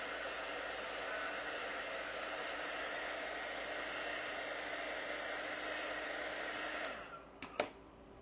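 A hair dryer blows on wet paint on a snow globe shelf sitter craft project, a steady close whooshing hum that runs unbroken before cutting off, followed by a couple of small clicks.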